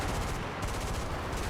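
Rapid bursts of M3 machine gun fire from an aircraft in War Thunder, a dense sustained rattle with a brief dip midway, loud and close with no talk over it.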